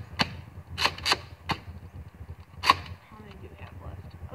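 Nerf Double Dealer and Rampage dart blasters slam fire, producing a handful of sharp, snappy pops spaced irregularly, a quick pair near the start and another shot later, each clear and close with quiet gaps between.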